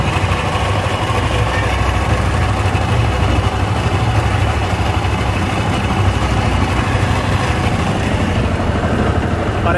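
Yamaha TFX 150 motorcycle with a stator fault, its engine idling close by in a dense, even, continuous drone that holds steady with no revving.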